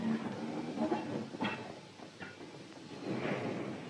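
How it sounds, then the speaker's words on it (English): Railway wagons roll through the automatic points of a 1950s marshalling yard, a faint, distant rumble broken by scattered clanks and knocks as the wagons cross. "A wagon every few seconds, and the automatic points sorting them out one by one."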